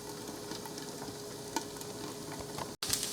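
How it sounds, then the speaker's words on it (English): Eggs being whisked or scrambled in a bowl, a steady run of light scraping and tapping strokes close by, with a faint background hum and a brief dropout near the end. "I'll go ahead and scramble some of these eggs up."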